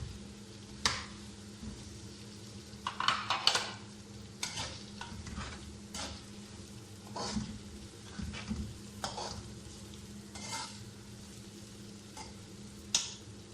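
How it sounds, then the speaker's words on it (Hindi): Pre-boiled tender mutton fries in a pan, a soft steady sizzle broken by repeated scraping stirs of a spoon, fairly quiet and with no voices. "अब इसको इसमें डालकर फ्राई कर लेंगे।"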